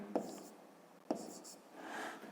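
Numbers are handwritten on paper for a fifth-grade maths exercise: two short, crisp pen strokes about a second apart, followed by a soft scratching of the pen, all quiet and close.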